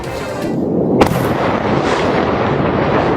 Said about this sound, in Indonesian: menimbulkan gelombang ledakan yang terdengar luas di kota